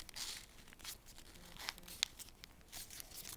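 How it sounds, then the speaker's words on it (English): Paper being folded and creased into an origami star, with soft crinkling and a few sharp creasing snaps scattered through a quiet, close-up stretch with no talking. "Take this one, fold it, and put it underneath this one."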